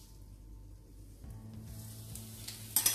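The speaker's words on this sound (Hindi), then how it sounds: "तेल गरम है, इसके अंदर हम जीरा डाल देते हैं" Cumin seeds dropped into hot oil, a faint low sizzle that grows a little after a second, ending with a brief sharper crackle and clatter.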